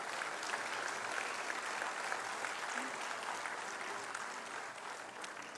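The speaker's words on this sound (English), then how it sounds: "Big round of applause for our..." An audience at a 2023 convocation graduation ceremony of the Kautilya School of Public Policy claps steadily for several seconds, a dense, even wash of applause from a large crowd that tapers slightly at the end.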